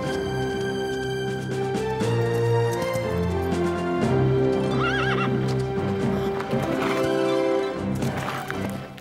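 A wild brumby horse in snow whinnies and neighs loudly amid steady clip-clopping hooves, set against a dense musical score throughout, with no talking.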